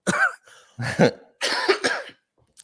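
Several harsh, close coughs in a row, loud and raspy, with short breaks between bursts and a throaty quality.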